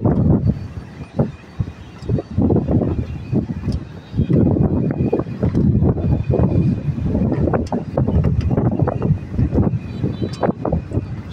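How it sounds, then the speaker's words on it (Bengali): Strong gusty wind buffets the microphone on a rooftop in the Madhabpur area as rain approaches under dark clouds, with loud, uneven rushing throughout and no clear voices. "সেই বাতাস ছাড়তেছে এবং বৃষ্টি আসতেছে সেইভাবে দূর থেকে"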